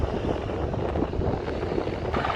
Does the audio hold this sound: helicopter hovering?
yes